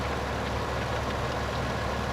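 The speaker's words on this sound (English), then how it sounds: "the engine noise." A tractor engine at maximum throttle in Farming Simulator, giving a dense, continuous mechanical drone at steady loudness for about two seconds, with no speech over it.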